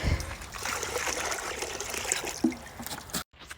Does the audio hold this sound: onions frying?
no